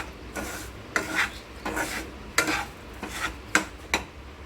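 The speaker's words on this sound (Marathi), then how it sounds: "आपल्याला ह्या ह्याच्यामध्ये असा हा रवा पूर्ण भाजून घ्यायचा" Semolina is roasted and stirred in a pan with a spoon, making repeated gritty scraping strokes in an uneven rhythm, close and fairly clear with no talk.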